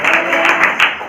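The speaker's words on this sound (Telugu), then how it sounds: "ఒక్కసారి చప్పట్లు కొడతారా? ఆ దేవుడికి చప్పట్లు కొడతారా?" A church congregation claps together in praise of God, a dense, steady burst of many hands, loud and close, with a few stronger accents and no talking.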